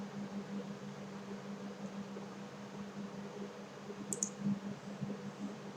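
Computer mouse clicks while dimensioning lines in CAD, a quick pair of faint clicks near the end over a steady low hum of fan noise.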